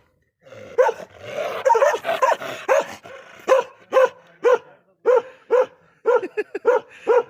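A Bakarwal sheep dog, a Himalayan herding breed, barks in a string of loud, close, deep woofs, first in a rough cluster and then spaced out more evenly, with a few quicker yips toward the end.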